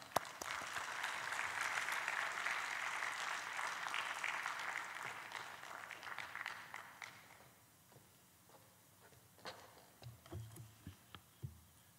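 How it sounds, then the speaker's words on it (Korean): Audience at a lecture applauds in a dense, sustained burst of clapping that fades out after about seven seconds, followed by a few scattered taps and footsteps in a quiet hall. "많은 박수로 환영해 주시기 바랍니다"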